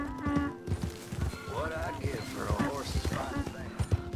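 Donkey hooves clip-clop in Red Dead Redemption 2 gameplay, a rhythmic run of soft thuds under overlapping voices.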